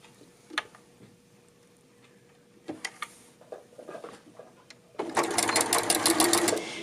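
A sewing machine stitches a neckband seam on a dolman sweater. Soft handling clicks and taps come first, then the machine starts up close with a loud, fast, steady rattle.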